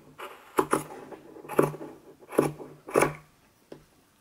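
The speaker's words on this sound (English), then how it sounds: "the first thing I do is cut off the ribbing" Scissors cut the ribbing off a knit sweater sleeve, giving five crisp snips at an uneven pace, close and clear with quiet between them.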